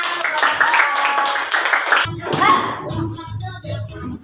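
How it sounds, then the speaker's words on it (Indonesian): Hands clapping briefly in a children's coding lesson, a short burst of claps followed by voices talking. "Beri tepuk tangan."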